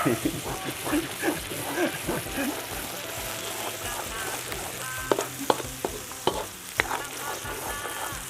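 Softshell turtle frying with holy basil in a rustic home kitchen, a continuous sizzle broken by stirring scrapes and sharp utensil clicks in the second half, with a voice talking over the early part.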